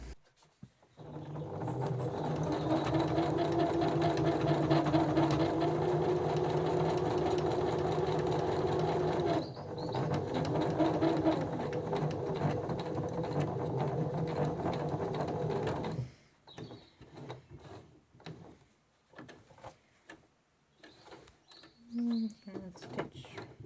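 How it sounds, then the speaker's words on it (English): A sewing machine runs a line of stitching across the folded point of a canvas banner, a close, fast mechanical chatter for about fifteen seconds with a brief slowdown midway, followed by quieter handling noises and a voice. "you do a last line of stitching to fix the point in place"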